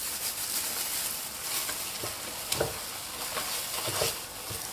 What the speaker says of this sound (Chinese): 搅拌至棉花糖融化